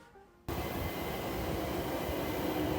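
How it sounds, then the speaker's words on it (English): A London Overground train runs through the site of New Bermondsey station, starting abruptly from quiet into a loud, steady broadband rumble and rush that holds at full strength, with no voices. "So the train, if there was a station, would be stopping about now"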